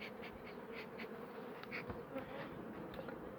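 Young honeybees buzz around a hive, a soft steady hum of many wings with individual bees passing close now and then, faint and continuous, with no voices.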